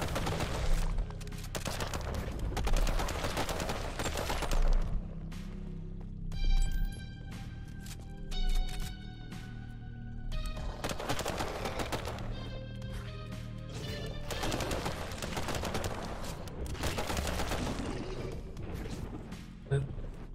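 Assault rifle bursts in the game Swarm Survivor, with repeated rapid volleys of shots separated by brief pauses, chiming pickup tones and game music between them, and a voice talking over parts.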